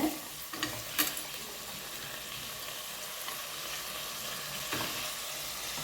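Finely chopped tomatoes fry with onions for a mutton kuzhambu, producing a quiet, constant sizzle with a few spoon scrapes and taps near the start and end.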